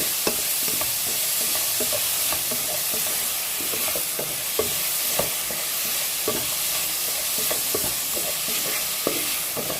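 Tomato, garlic, ginger and green chili sauté in a hot pan with a steady, close sizzle, broken by repeated scraping and clacking strokes of a spoon stirring throughout, and no voices.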